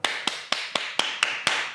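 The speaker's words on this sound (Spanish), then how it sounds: "¿Cómo sería el aplauso en fuerte y suave?" Seven loud, sharp hand claps from a single person, evenly spaced at a steady beat, crisp and close with no talking, played as the strong version in a percussion exercise.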